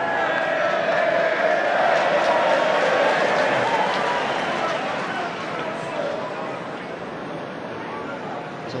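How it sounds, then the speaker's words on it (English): A stadium crowd at a Fiji versus Ireland rugby league match roars and cheers loudly for the man bringing the kicking tee. The dense, sustained wash fades slightly toward the end, with a commentator talking over it. "It's almost the loudest cheer of the night for the man with the kicking tee."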